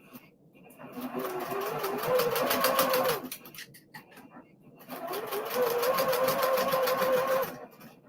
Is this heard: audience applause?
no